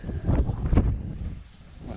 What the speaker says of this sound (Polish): Kurde, wiatr wieje jakiś